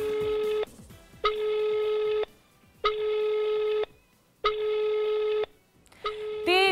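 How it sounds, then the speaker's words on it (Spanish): Telephone ringback tone on a call placed from a Colombian mobile or landline, heard as four long evenly spaced ringing bursts with pauses between them and no one picking up, ending in a different brief tone. "Timbra y timbra y timbra."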